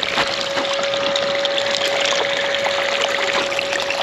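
Water rushes through a gold hog multi-sluice box in a steady, loud, unbroken gush, with a constant pump-like hum running underneath and no speech.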